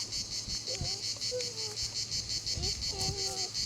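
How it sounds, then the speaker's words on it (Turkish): Continuous high-pitched insect buzzing fills the background, a steady cicada drone, with faint short chirps and a few quiet voice sounds underneath. "Ağustos böcekleri nasıl ötüyor oğlum?"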